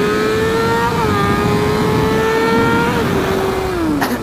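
A car pulling away in the wrong gear, its engine droning loudly at a steady strained pitch that steps down slightly twice, close and continuous with road noise beneath.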